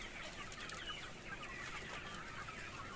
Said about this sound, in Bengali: এই আমাদের মুরগি দেখছেন